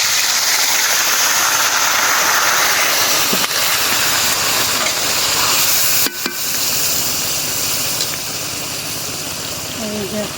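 Loud, continuous hissing sizzle as fried ingredients go into a hot pan while cooking mixed leafy greens, with a few clatters partway through.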